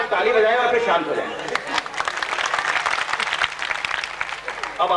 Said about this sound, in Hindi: एक बार ताली बजाएं और फिर शांत हो जाएं।